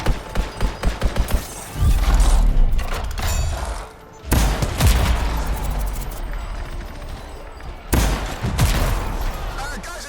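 Gunfire from the video game Anthem, with rapid bursts of shots and thudding impacts mixed into loud combat noise and game sound effects, with brief pauses between volleys.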